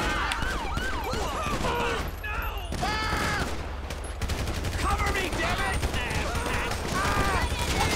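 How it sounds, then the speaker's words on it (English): Rapid gunfire from a GTA V LSPDFR police shootout, dense overlapping bursts and single shots filling the scene, with frantic voices shouting throughout. "Shots fired."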